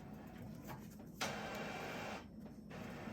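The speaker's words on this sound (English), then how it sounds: "Here's the lovely printer." A home printer runs through a page during a junk journal craft project, giving a steady close mechanical whir with a louder feed surge midway and a brief dip near the end.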